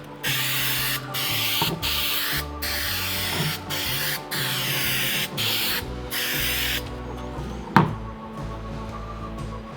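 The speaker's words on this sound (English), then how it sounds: "We're going to spray adhesive on the foam." Aerosol spray adhesive sprayed onto door panel foam in a run of close, loud hissing bursts with brief gaps between, then a quieter stretch with a single click.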